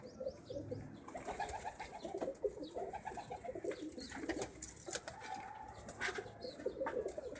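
Pigeons held in a person's hands give soft, continuous cooing and murmuring calls close by, layered with rustling and faint chirps, with no speech.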